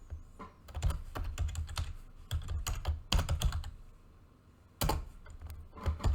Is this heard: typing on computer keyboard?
yes